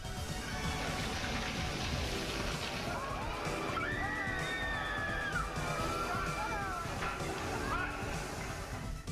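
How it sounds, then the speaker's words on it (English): Crowd screaming as a giant prop boulder in a live stunt show veers off its track toward the audience, high shrieks rising over dense, continuous crowd noise and rushing background sound. "You can hear a terrified scream emerge from the crowd as the boulder goes off track and heads straight towards the audience."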